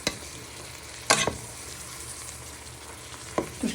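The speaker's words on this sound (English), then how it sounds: "Just give that a little bit of stir in for a minute." Sweet corn sizzles in a frying pan, a steady close crackle with a few louder scraping stirs of the spoon across the pan, one near the start and another near the end.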